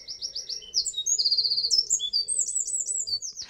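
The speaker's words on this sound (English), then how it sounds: "So can we just hear what a wren sounds like?" A wren sings a rapid, high, trilling song of tumbling chirps and warbles, bright and fairly close, over a faint low background murmur.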